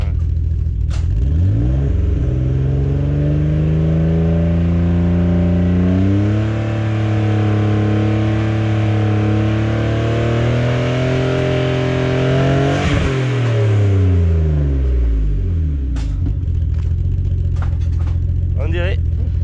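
A bi-turbo car engine fitted with a new exhaust silencer revs up and down repeatedly, its deep, muffled drone rising and falling in long sweeps, loud and close, with people talking over it.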